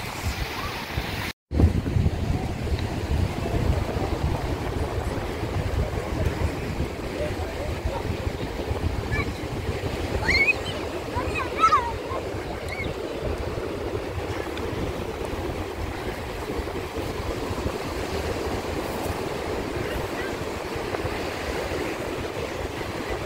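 Steady roar of sea surf and gusting wind at a Lithuanian beach under a red-flag warning, with children jumping in the waves; continuous broadband rush buffeting the microphone, faint distant voices.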